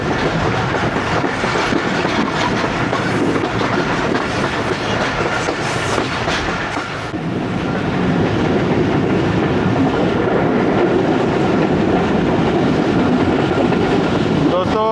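Awam Express passenger train running on rails between Padidan and Shahdadpur in winter, heard from onboard as a loud continuous rumble with rhythmic clickety-clack of wheels over joints, shifting in character midway.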